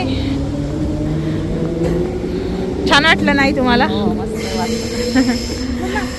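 An electric suburban train pulls out of a Perth railway station in Australia, its whoosh and hiss swelling steadily across the platform while people chat and laugh close by.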